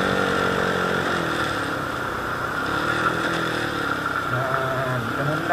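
Motorcycle engine blipping during rev-matched downshifts toward first gear, a steady close buzzing drone with rising and falling rev sweeps, fairly loud and continuous with no talk.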